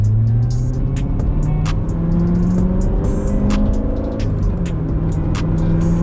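A Chevrolet Corvette Z06 pulls onto a freeway, its engine loud and close as it accelerates through rising and falling gear pulls, with steady road roar underneath and no talking.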